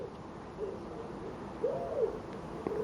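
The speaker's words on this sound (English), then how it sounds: "Got a wood pigeon there." A wood pigeon coos outdoors, giving a few soft, low, rounded calls at a moderate distance against a quiet background.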